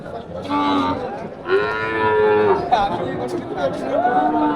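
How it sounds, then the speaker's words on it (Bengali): Several cattle moo loudly and close by at a Eid sacrificial livestock market on a river island in Kurigram, long drawn-out lows overlapping, with faint crowd chatter in the background. "আমরা বড় বড় গরু দেখতে পাচ্ছি"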